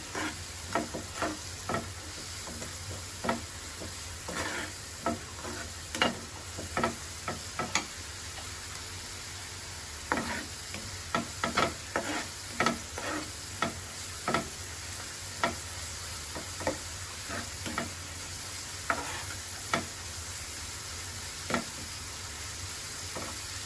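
Prawn malai curry masala sautéing in a pan, a continuous sizzle punctuated by frequent sharp scrapes and clicks of a spatula in an uneven rhythm, close up with no speech.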